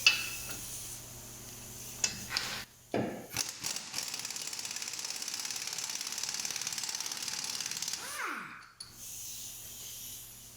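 An air tool or ratchet loosening a nut during a car wheel bearing replacement: a sharp crack and a few clanks, then several seconds of steady rapid rattling hammering, ending abruptly with a brief squeal and quieter workshop noise.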